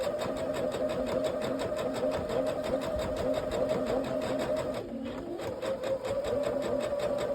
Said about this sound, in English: We're going to sew this together as a 4-patch.